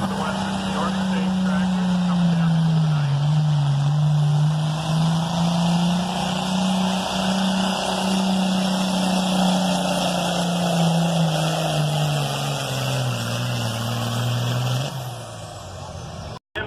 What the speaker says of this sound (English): compact tractor, Trevor Halton on Blue Vengeance